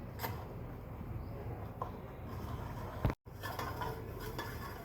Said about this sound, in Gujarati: બે ચમચી ગોળ નાખી અને આપણે પાણીમાં પીગાળી લઈશું